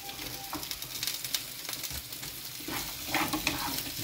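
Garlic and rocoto pepper sautéing in a pan, a close steady crackling sizzle with intermittent stirring scrapes and pops.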